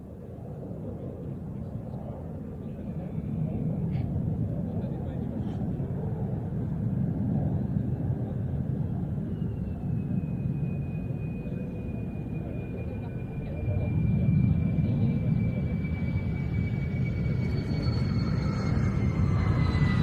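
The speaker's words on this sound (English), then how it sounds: "We can also hear some jet noise high up in the sky above us." Distant jet aircraft high overhead at an airshow, a faint rising and falling whine over a steady low rumble that swells louder toward the end, with no talk.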